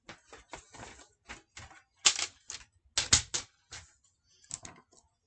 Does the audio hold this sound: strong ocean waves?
no